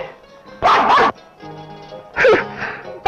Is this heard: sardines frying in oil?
no